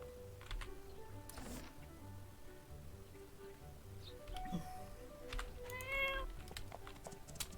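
A cat meows a few times, short and fairly close, over a low background hum with scattered light clicking like keyboard typing.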